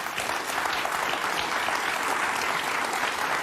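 A studio audience at a live late-night talk show bursts into dense, sustained applause that fills the room evenly for a few seconds with no voices on top.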